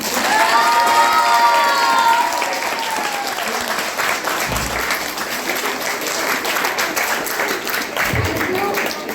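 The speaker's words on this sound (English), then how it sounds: "clap for our foundation" A crowd of children claps and cheers for their foundation at an 18th birthday and debate competition event, loud sustained applause with shouts and whoops rising early, then settling into steady clapping.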